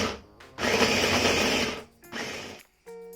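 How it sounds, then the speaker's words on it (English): Food processor pulsing cold butter, flour and sugar into tart dough, with two loud whirring bursts separated by short pauses and a clatter at the end. "Now I'm going to pulse this until the dough resembles a sand."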